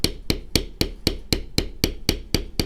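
A leather stamping tool is struck about eleven times on cased leather, giving crisp, close, evenly spaced taps in a fast steady rhythm.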